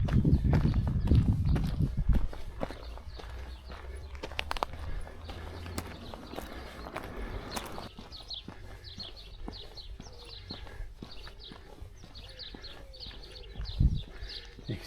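Horses at the livery stables of the Bobadilla estate, their hooves clip-clopping in an irregular walking rhythm at moderate distance, with faint birdsong and a louder rustle and thump near the start.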